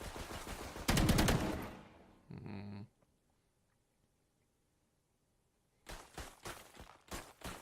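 Valorant gunfire in a collegiate esports match: a dense loud burst of shots, then a short muffled pop, near-silence, and several sharp cracks returning near the end.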